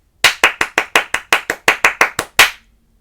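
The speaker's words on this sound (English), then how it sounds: "So think them in your head and just do the clapping." Hands clap out a rhythm practice pattern of about a dozen crisp claps, some evenly spaced and some closer together, loud and close with no voices between them.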